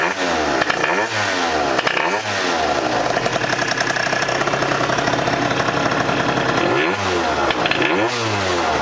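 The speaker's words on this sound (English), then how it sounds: "It's revving up good." A small engine with a clutch engaging around 8,000 rpm revs repeatedly, rising and falling in sharp bursts between a buzzing idle, close and loud with no talk.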